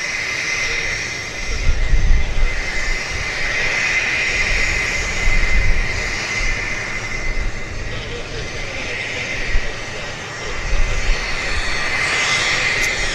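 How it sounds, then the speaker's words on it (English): A Korean Air Dreamliner airliner from Seoul arriving at Vancouver Airport, with a broad jet roar that swells and ebbs across the stretch and holds steady underneath. "here comes the Korean Airlines Dreamliner from Seoul"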